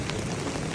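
Heavy rain pours down during flash flooding, a dense, loud, continuous hiss of drops hitting surfaces with no gaps and no voices.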